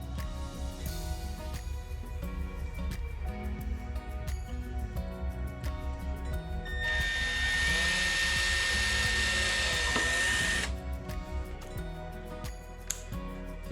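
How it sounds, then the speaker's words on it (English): A power drill bores pilot holes through a template on a motorcycle tour pack light mount, a steady whine of about four seconds rising in the middle of quieter background music, with no talking. "We're going to drill the pilot holes."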